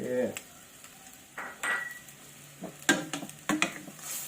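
A spoon stirs a pot of boiling whipping cream with parmesan for carbonara, giving scattered scrapes and clinks against the pan over a soft bubbling simmer, up close and without speech.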